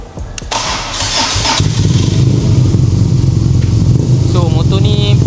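A BMW R nineT motorcycle engine cranks and catches at close range, then settles into a loud, steady idle; a few background voices are heard faintly.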